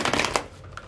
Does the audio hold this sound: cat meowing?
no